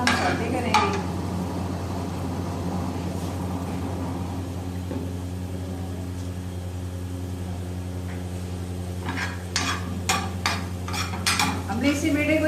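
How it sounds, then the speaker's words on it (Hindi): The white parts of spring onions sauté in butter in a pan with a low, steady hiss over a constant kitchen hum, with clinks of a utensil near the end and someone talking over it. "वाइट पार्ट को बेटे हल्का सा हम सौटे करेंगे।"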